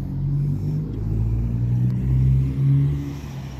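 A 1991 Chevrolet Camaro convertible project car idles with a steady low rumble and slight revving swells, close and continuous with no talk.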